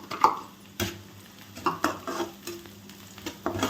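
Carrot pieces dropped into onions frying in a pan, followed by repeated scraping stir strokes in uneven bursts over a quiet sizzle, close and clear with no talking.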